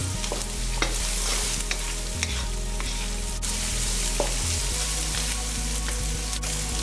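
Chopped onion and chili pepper frying in a hot pan, a steady close sizzle with occasional stirring scrapes and taps, no voices.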